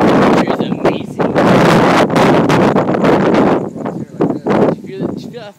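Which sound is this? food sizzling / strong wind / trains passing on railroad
strong wind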